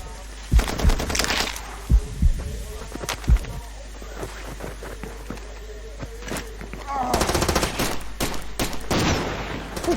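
Gunfire rings out during a Far Cry 2 multiplayer match as loud bursts and rapid automatic volleys, scattered at first and then clustering into dense fire, with a voice talking among the shots.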